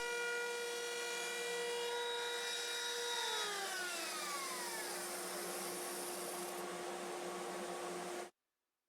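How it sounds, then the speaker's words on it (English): Router on a router table cutting grooves into wood for epoxy inlays, a loud sustained whining tone whose pitch drops partway through, then holds steady before stopping abruptly. "at the router table, I'll cut grooves 1/2 inch in from each edge for the epoxy inlays"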